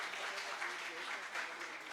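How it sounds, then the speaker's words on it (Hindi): Audience applause at a Hindi comedy poetry gathering, a faint, even patter of many clapping hands sustained for a couple of seconds. "देखो इनके लिए तालियां बजनी चाहिए।"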